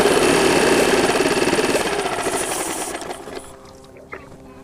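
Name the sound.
outboard boat engine running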